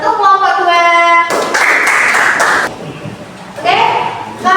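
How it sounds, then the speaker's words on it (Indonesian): Students in a classroom clap for group 2, a short burst of dense applause lasting about a second, loud and close, between stretches of a teacher speaking. "beri tepuk tangan untuk kelompok 2"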